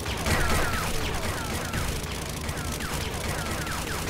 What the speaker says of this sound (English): So when you do the auger, do you just pull the trigger back and forth like you're shooting?